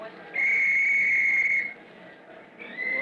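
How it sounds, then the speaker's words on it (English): A referee-style whistle blown to clear a playing field gives one long, loud, steady shrill blast of about a second and a half, then a second blast begins near the end. "Soon as I blow my whistle."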